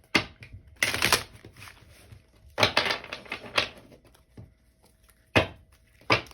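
Tarot cards shuffled by hand in several separate bursts of crisp riffling and slapping, close and fairly loud, with quiet pauses between them and no talking.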